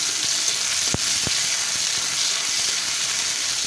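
Bay leaf and ground cumin paste sizzle in hot oil while being stirred, a dense steady frying hiss with a couple of sharp scrape or tap accents from the spoon.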